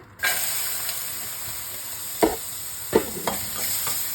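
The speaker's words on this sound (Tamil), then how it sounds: "இப்போ அதே எண்ணெயிலே நான் இஞ்சி சேர்த்து வதக்கிக்கிறேன்" Chopped ginger sautéing in oil left over from earlier frying, a continuous close sizzle with a few scraping stirs rising above it.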